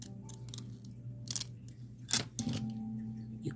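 Scissors snipping through old Avon nail stickers, a few crisp close cuts spaced out over a quiet room with a low background hum.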